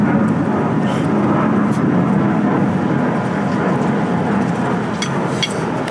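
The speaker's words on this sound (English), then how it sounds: "Aeroplane going over." An aeroplane passing overhead in a residential area in Australia, a broad, steady roar that holds loud for several seconds and eases slightly toward the end.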